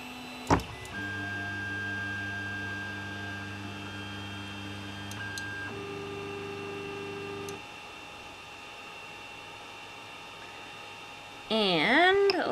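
A 3D printer loaded with Hatchbox wood filament auto-homing its axes, with steady stepper-motor whines holding pitch for several seconds, shifting tone, stopping, then a brief warbling motor sweep at the end, quiet and close.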